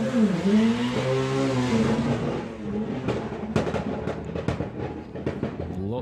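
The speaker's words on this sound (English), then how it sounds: "Lots of wheel slip going on before we even got to 60 foot." A drag racing car launching with heavy wheel slip at Santa Pod Raceway: a loud engine tone sweeps and wavers, then breaks into rough, crackling pops and bursts as it pulls away.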